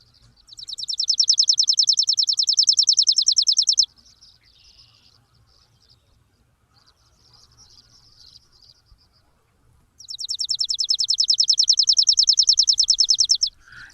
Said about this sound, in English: this is one of the most recognizable sparrows in North America, mainly because of its call.